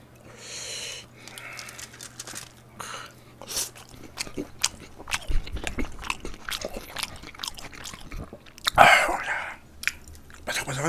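Someone chews a kimchi pancake (kimchijeon) close to the microphone, with soft, repeated bites and wet mastication sounds over about ten seconds, broken by sniffs and a brief louder crunch.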